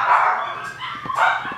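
Young puppies give a few short, close yips and whimpering cries in quick succession, high-pitched and fussy, with no speech over them.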